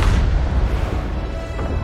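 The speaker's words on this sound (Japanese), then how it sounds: "キャプテングリムと一緒に爆発。" A booming explosion aboard a ship in the pirate video game Sea of Thieves, a loud, dense rumble that fills about two seconds with no voices.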